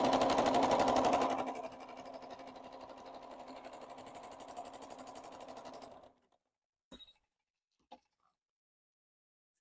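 A sewing machine runs a zigzag stitch across patchwork, loud and steady at first, then easing to a lighter hum before stopping, followed by a few brief clicks and knocks.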